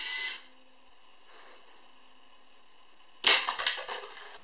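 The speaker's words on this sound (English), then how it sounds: "By pressing a button on the rifle, it instantly reloads." A Lego Mindstorms EV3 sniper rifle fires: a sharp snap at the start, then a near-silent pause, then a louder crack followed by a short rattling mechanical decay, all close and with no talking.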